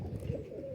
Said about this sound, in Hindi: बड़ा कीमती कबूतर है